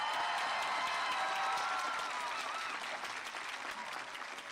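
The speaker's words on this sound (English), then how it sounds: "Let's give them a round of applause." At a 2022 college commencement ceremony, a large crowd gives honor graduates a steady round of applause, with faint cheers and whistles threaded through the dense clapping as it gradually tapers.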